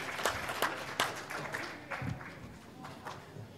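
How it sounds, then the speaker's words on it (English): Audience applause for presenters at a multi-day forum in a hotel conference room, a steady spread of clapping with a few sharper claps standing out, moderately distant and fairly quiet. "Let's give our presenters another big round of applause."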